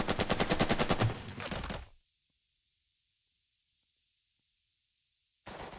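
Rapid burst of squad rifle and machine gun fire in the turn-based war game Burden of Command, a loud dense rattle lasting about two seconds, then silence before another burst starts at the end.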